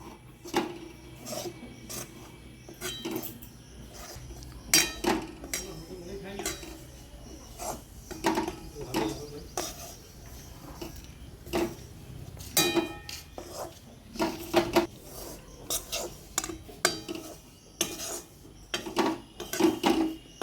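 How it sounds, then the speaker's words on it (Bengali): Ghee, gram flour and flour are worked together in a pan with a utensil, making repeated close scraping and clinking strokes in an irregular rhythm, moderately loud and alone. "ঘি, বেসন এবং ময়দা এই তিনটেকেই ভালো করে মিশিয়ে নিতে হবে একসাথে"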